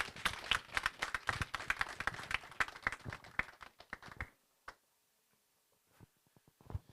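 Conference audience applauding after a speech: dense, lively clapping at moderate distance for about four seconds, then breaking off suddenly into a few scattered late claps and quiet.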